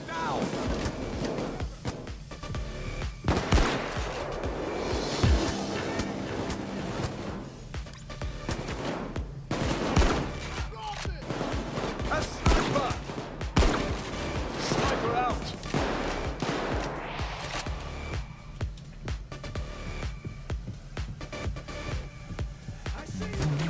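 Sustained gunfire from the heist shooter Payday 2, a dense, continuous stream of shots with scattered heavier thumps running the whole stretch at steady loudness, mixed with game sounds and occasional voices.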